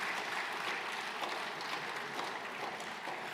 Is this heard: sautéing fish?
no